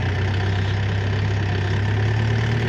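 A DTZ 5404 tractor engine drones as the tractor drives forward while preparing soil for planting, a loud, close and unbroken mechanical rumble.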